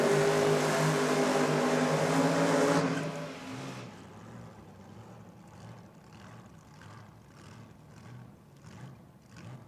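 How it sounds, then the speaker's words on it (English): A drag racing car at a New South Wales championship meet does its burnout. A loud, sustained roar lasts about three seconds, then drops abruptly to a lower, steadier rumble heard from a distance. "Craig Corbett going through his burnout procedure. Sounds a little bit healthier this time"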